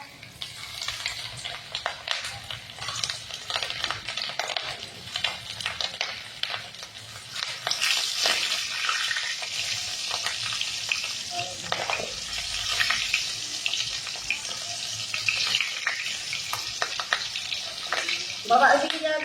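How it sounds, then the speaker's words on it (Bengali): Chicken legs frying in hot oil in a home kitchen, crackling loudly and steadily with bursts of spattering and stirring scrapes, and a few faint voices now and then. "ঠ্যাং ভাজা করে নিব"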